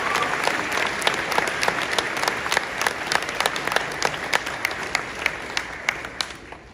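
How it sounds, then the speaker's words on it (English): A crowd at a high school graduation ceremony applauds steadily, dense clapping continuing without a break before gradually thinning out. "let's give them a round of applause because we all deserve it."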